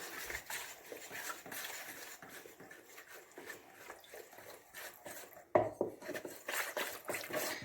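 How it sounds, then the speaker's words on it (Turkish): A spoon clinks and scrapes around a bowl as instant dry yeast and a dessert spoon of sugar are mixed, a steady run of light taps with a sharper knock partway through, close and fairly quiet. "Mayanın aktifleşmesi için de bir tatlı kaşığı kadar şekerimizi şöyle iyice karıştırıyoruz"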